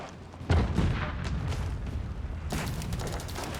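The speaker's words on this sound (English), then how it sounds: "Cannons are advancing, trying to counter barrage the culverins." Cannons and culverins boom in a medieval battle in Age of Empires, one heavy shot landing sharply, then scattered distant thuds and crackles over rumbling battlefield noise.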